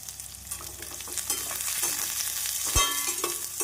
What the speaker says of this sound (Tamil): நாம் கடுகு பொரியவும் நறுக்கிய வெங்காயத்தை சேர்த்து விடலாம்.